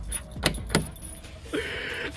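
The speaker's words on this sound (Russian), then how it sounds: "пытаемся открыть с ключа машину" Car keys jangle and clink against a lock while someone tries to open an old VAZ 2109 by key, giving a few sharp metallic rattles and then a brief scrape, close up and fairly quiet.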